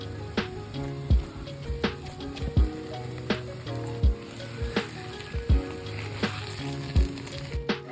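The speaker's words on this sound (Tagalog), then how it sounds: "And then magigisa na tayo ngayon." Tomato paste and liver spread sizzle steadily in a pan as beef stew is sautéed. A utensil stirs and scrapes against the pan with sharp, irregular clinks about once a second, close and clear.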